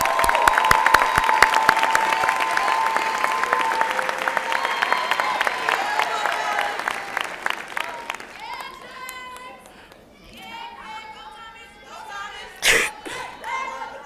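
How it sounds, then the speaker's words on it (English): An audience at an annual Black celebratory event applauds staff advisors, dense and loud clapping that thins out and fades after several seconds, followed by scattered cheers and someone speaking. "Let's give them a round of applause."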